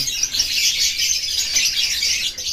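A Dula ewing green lovebird chirps continuously, with dense, bright, rapid twittering held at a steady close level for the whole moment.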